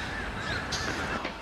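Birds, likely crows, caw from a distance on a clear autumn morning near a Seoul subway station, a few scattered calls over a steady wash of outdoor and city noise.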